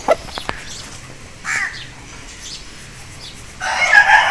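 An Aseel rooster crows in a couple of short bursts near the mic, with other faint bird calls around it and no talking.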